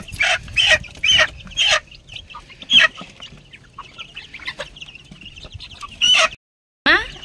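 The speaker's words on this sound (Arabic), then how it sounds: "الفراخ اللي مش بتكبر دي مش عارفه هتكبر امتى. عايزه امسك فرخه." Chickens and chicks cluck and squawk in short bursts, several close calls repeating irregularly over a quiet yard background, with a brief silent gap near the end.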